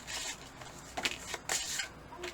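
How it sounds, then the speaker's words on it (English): Board game cards for Tiny Epic Pirates being shuffled by hand, a few quick papery riffling bursts close up with short pauses between them. "take the rest of the cards and shuffle them in"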